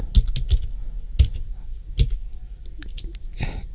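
Typing an Excel formula on a computer keyboard: a few sharp, close key clicks spaced irregularly, with a quiet voice speaking softly in between.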